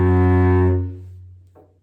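A cello plays a sustained bowed low note that fades out, followed by a brief softer second note, a solo instrument alone with no talking.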